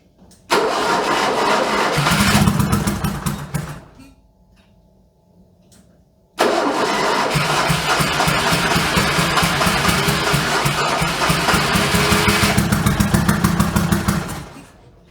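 A Fiat 126p fitted with a turbo and two carburetors cranks loudly on its starter in two long bursts separated by a short pause, the engine churning rhythmically without catching, close by.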